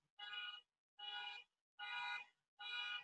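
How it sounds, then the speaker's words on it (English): A harmonic electronic alarm beeps outdoors in four regular half-second bursts with short silent gaps, faint and distant. "Can you hear that beeping from outside?"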